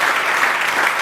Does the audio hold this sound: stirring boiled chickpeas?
no